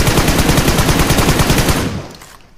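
Rapid automatic hip-fire gunfire from PUBG Mobile rattles in a steady, loud, close burst of evenly spaced shots for about two seconds, then stops abruptly and leaves a quiet tail.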